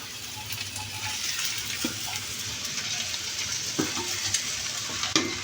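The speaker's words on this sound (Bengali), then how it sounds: "নাড়াচাড়া করতে করতে ভেজে নিব।" Rice stir-fried in a pan for homemade fried rice gives a steady close sizzle, with a few sharp scrapes and taps from the stirring spoon striking the pan.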